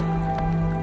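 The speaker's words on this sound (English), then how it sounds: "the rain keeps the bears away" Rain falling in a forest along the historic Nakasendo Trail in Japan, a dense, steady patter with a constant hum running underneath and no pauses.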